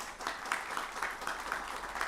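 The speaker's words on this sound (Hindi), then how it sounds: "स्वागत कीजिए, जोरदार तालियों के साथ हमारे साथ बैठे हैं।" A studio audience gives a guest a loud welcome at an interview, steady rhythmic clapping filling the short stretch without talk.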